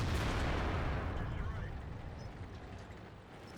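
A tank gun booms in World of Tanks on the Fisherman's Bay map, fired from an Object 704. A heavy blast opens the clip and rumbles away into a long decaying roar, with a voice talking faintly beneath it.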